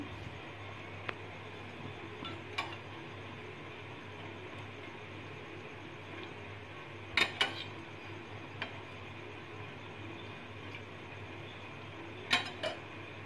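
Quiet kitchen scene while oil heats for a dal tadka: sparse, sharp clinks of a spoon against a pan ring out a few times over a low steady background hum.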